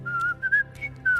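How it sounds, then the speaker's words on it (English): A character whistles a short, light tune in The Wolf Among Us video game, four or five clear notes in brief phrases, faint and alone. "Whistling."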